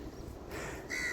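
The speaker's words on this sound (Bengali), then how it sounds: "পাখির ডাক" A short bird call rings out nearby on a sandy beach in the morning, a brief harsh cry over quiet outdoor background noise.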